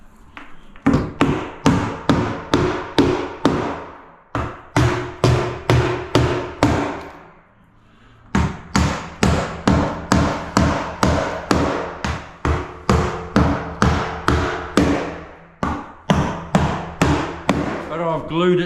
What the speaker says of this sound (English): You nail it off every roughly 100 mil.